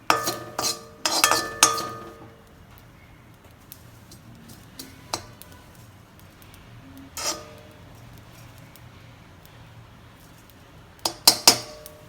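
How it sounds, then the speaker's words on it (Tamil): Poppy seeds frying in a pan for spice powder give sparse, sharp popping ticks and clinks, a small burst at the start and a few scattered pops later against a quiet background. "கசகசா நல்லா பொரிய ஆரம்பிச்சிருச்சுங்க"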